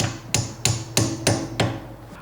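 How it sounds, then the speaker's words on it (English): A hammer strikes a brake part on an Aston Martin to flatten it, five sharp metallic blows at a steady pace, close and loud, with no voices. "you wanna hammer it till it comes all the way back and it's flat on the back side"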